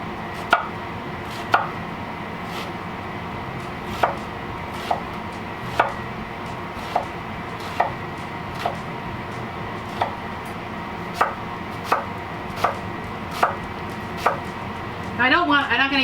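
A knife dices a white onion on a cutting board, with sharp isolated chops landing at an irregular, unhurried pace, close and clear over a quiet background.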